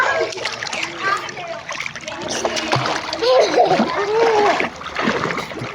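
Children swim and splash in outdoor water, making repeated close splashes and churning sounds while kids shout and talk over the splashing throughout.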